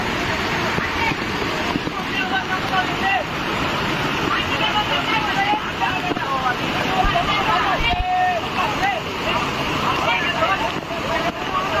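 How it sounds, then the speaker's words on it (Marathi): Water from the Dugarwadi waterfall pours down with force in a continuous loud roar, while people shout and talk over it throughout. "पाण्याचा ताकदीने पाणी पडू राहिलं खालून"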